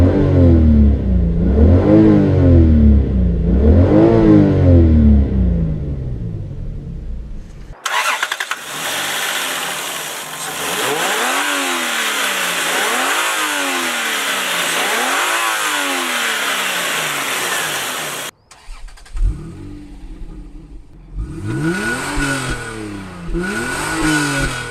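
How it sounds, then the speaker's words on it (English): A 1996 Toyota Aristo engine cranks, starts and idles, then is revved in repeated rising surges with exhaust roar, cutting off and restarting in loud close bursts. "Let me start the car and quickly show you the engine bay"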